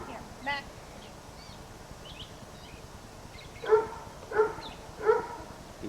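Max, a dog, gives three quick, distinct barks at a moderate distance, with people's voices chatting in the background.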